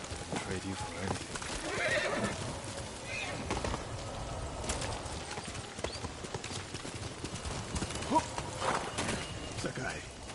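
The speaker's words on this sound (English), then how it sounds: "Horse!" Horse in Ghost of Tsushima, a samurai game set on feudal Tsushima island, whinnying repeatedly over steady clip-clop of hooves along a road, with game ambience and voices talking around it.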